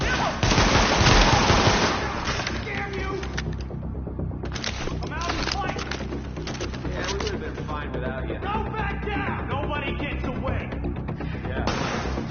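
Rapid automatic gunfire in The Division video game, dense bursts of shots rattling continuously with a brief lull, mixed under game voice alerts.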